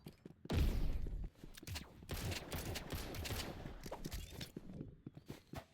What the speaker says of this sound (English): Oh shoot, I'm getting shot at.